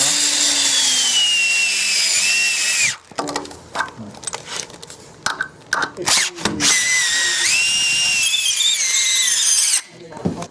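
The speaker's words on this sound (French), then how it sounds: "on perce à 10, douille de 13," A power drill whines at high speed while boring into a pergola mounting plate, then sputters in short bursts and squeals, then runs long again, loud and close.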